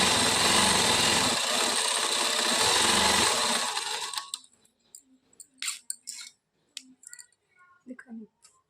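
A sewing machine stitches kurti fabric to its inner lining with a loud, fast mechanical whir for about four seconds, then stops, leaving faint handling clicks and rustles.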